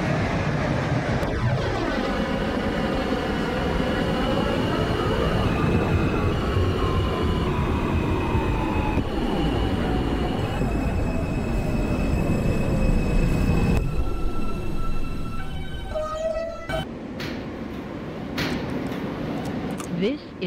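R160A subway train on the R local line to Brooklyn in the OpenBVE simulator, steady rumbling motion with squealing wheels and rising, falling motor whine, sustained and loud, easing down near the end.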